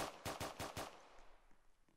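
Rapid burst of rifle gunfire in the Roblox game Prison Life, five sharp shots in quick succession over about a second, followed by faint game ambience.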